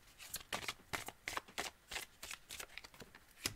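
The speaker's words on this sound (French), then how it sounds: "je vais tirer quelques cartes en complément" Tarot cards being shuffled, a quick run of soft riffling bursts at an even rhythm, close and clear with no talking.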